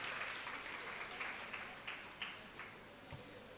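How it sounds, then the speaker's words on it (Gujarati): Applause from a gathered audience welcoming two people at a Gujarati event sounds faint and distant, a soft patter of scattered claps running for nearly four seconds with a few sharper individual claps. "તો એકવાર બંનેને આપણે તાળીઓના ગડગડાથી વધાવી લેવા જોઈએ"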